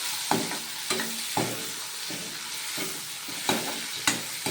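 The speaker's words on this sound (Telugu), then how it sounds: "ఇలా ఫ్రై అయిన తర్వాత ఆనియన్స్ బాగా గోల్డ్ ఫ్లేమ్లోకి వచ్చినంత వరకు ఇలాగా ఫ్రై చేసుకోవాలి" Spring onions fry in a pan for a curry, giving a steady sizzle broken by several sharp scrapes and clinks of stirring at irregular intervals, close and alone without any talk.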